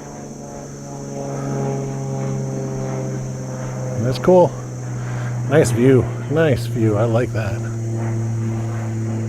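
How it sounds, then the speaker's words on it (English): A propeller airplane passes overhead as a steady droning hum through the whole stretch, outdoors at a riverside park, while people talk nearby over it. "Airplane overhead."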